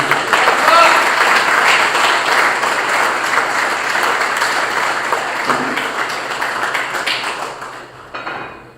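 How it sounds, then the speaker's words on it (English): Crowd applause for the tournament director and his team at the closing ceremony of the Over-40s Africa Cup in Pretoria, loud and sustained, then fading toward the end. "we give a round of applause for the tournament director, Francis Briand, and his team"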